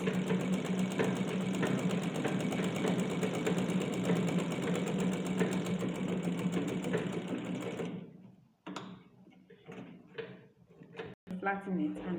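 A sewing machine runs steadily for about eight seconds while stitching a home-made fabric face mask, then stops, and a person speaks briefly in the quieter stretch that follows.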